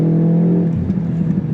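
Engine of a 2025 Mini John Cooper Works heard from inside the cabin while driving: a loud, steady, low drone that shifts pitch slightly partway through, with no talking.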